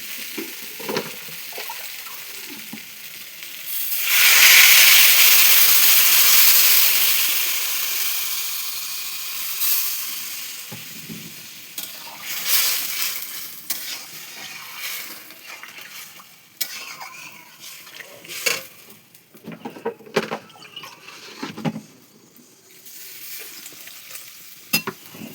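A pan of drumstick and potato curry broth hisses loudly as water is poured in, then settles to bubbling with intermittent stirring and clinks of a utensil against the pan.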